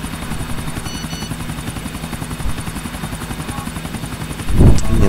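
Helicopter rotor thumping in Grand Theft Auto IV, a loud, steady rapid chop with engine whine throughout, close by, with a short burst of louder noise near the end.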